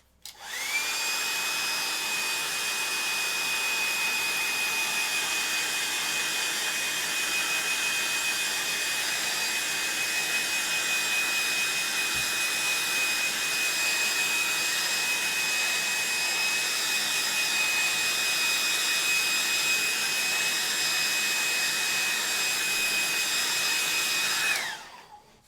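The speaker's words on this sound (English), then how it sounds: "And I'm going to get my hairdryer," A hairdryer runs continuously for about 25 seconds, a steady loud whine and airy rush that switches on abruptly and cuts off at the end, with no voices over it.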